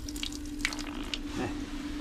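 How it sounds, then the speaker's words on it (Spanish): Water runs steadily from an old tap at the former public washhouses of Corbera d'Ebre in Tarragona, a constant splashing flow with a few brighter drips and spatters, heard on its own. "aquí me he encontrado un grifo no sé si bajará agua"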